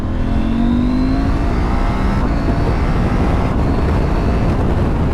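A Husqvarna Norden 901 Expedition motorcycle accelerates hard on the road, its engine rising in pitch through the revs under loud, constant wind rush.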